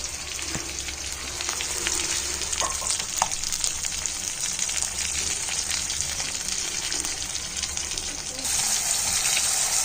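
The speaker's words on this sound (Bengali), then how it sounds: "ওখানে মশলা মাখানো মাছ ভাজা হচ্ছে" Spice-marinated fish frying in a pan, heard as a constant dense sizzle with faint kitchen clatter throughout, rising slightly louder toward the end, no speech.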